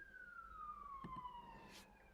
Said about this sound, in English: I don't know if you guys hear the sirens going by.